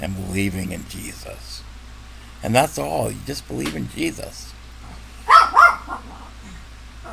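A pet dog barks and yips loudly indoors in a few sharp bursts, overlapping a man's speech as he keeps talking.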